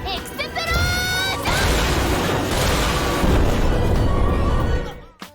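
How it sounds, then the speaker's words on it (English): A loud, sustained explosion rumble with crackling bursts, preceded by a brief ringing musical tone, fading out at the end. "there's the actual explosion noises"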